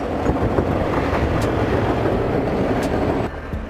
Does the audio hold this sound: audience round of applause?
no